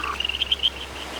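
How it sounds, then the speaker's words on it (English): Frogs in the Neidong Frog Valley forest give a quick series of high, chirping croaks over a faint steady background hum. "You can hear our noisy croaks all the way down the valley, especially during breeding season."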